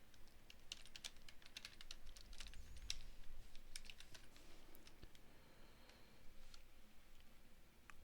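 Fast typing on a computer keyboard gives a steady stream of crisp, close key clicks in rapid irregular bursts, heard alone against a quiet background.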